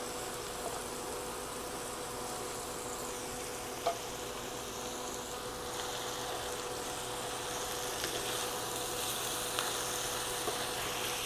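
Sausage with peppers and onions frying in a pan for a homemade school cafeteria-style pizza: a steady, even crackling sizzle runs throughout at moderate level, with a few tiny pops and no talk.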